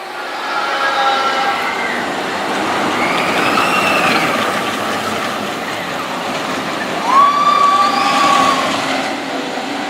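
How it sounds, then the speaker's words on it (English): A train rumbles past at moderate distance at Knott's Berry Farm, with a steady rolling roar and high metallic squeals rising over it, no voices. "I was waiting for a train to come by. Let's see if we can get one here."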